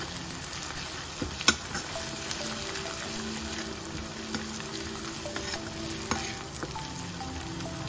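Garlic and green chili paste fries with browned onions in a pan, giving a steady, close sizzle with faint crackles and a couple of sharp ticks, and no voices.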